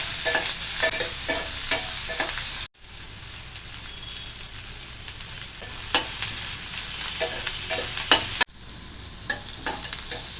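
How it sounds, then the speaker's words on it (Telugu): Chopped onions, green chilies and turmeric fry in oil in a pan, a close continuous sizzle broken by repeated scraping stirs of a utensil, with two brief dropouts and no talk. "వీడియోలో చూపించిన విధంగా కొంచెం రంగు మారేంత వరకు ఉల్లిపాయ ముక్కల్ని వేయించుకోవాలి"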